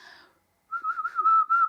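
A person whistles a short melodic phrase of a theme tune, a clear close whistle in a few rising and falling notes after a brief pause, with no talking.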